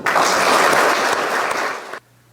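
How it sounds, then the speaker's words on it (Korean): Warm applause rises for retiring workers at a closing ceremony, a dense burst of clapping from a gathered crowd that holds steady for about two seconds and then cuts off sharply. "이렇게 최선을 다해 주신 여러분 스스로와 동료들에게 뜨거운 박수를 부탁드리고 싶습니다"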